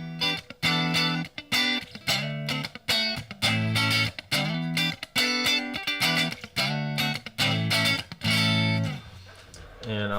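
Electric guitar played through effects with distortion, loud rhythmic chord stabs repeating in short bursts with brief gaps, with ringing sustained notes toward the end.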